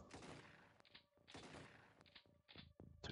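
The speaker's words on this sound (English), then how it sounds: "Two shotgun shells did absolutely nothing." Shotgun blasts in the retro video game X-COM: UFO Defense come in two close bursts of loud, rough, crackling reports, each trailing into brief clatter, with a further shot starting at the end; the whole track is quiet overall.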